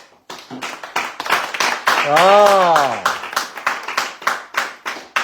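Clapping on a radio show, a few sharp, distinct claps at close range rather than a big crowd, with a voice crying out a drawn-out exclamation partway through.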